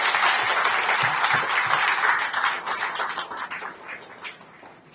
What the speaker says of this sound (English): Please give a good round of applause.